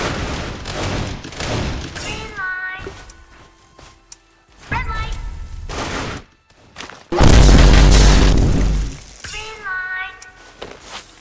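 Bursts of video game gunfire and heavy booms in Roblox Squid Games, loud and close, mixed with a speaking voice and a dense, explosive burst near the end.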